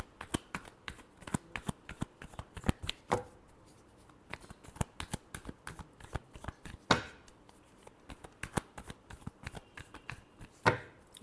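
Tarot cards being shuffled in a steady run of quick riffling bursts and soft slaps, close and fairly quiet, with short pauses between shuffles and no talking.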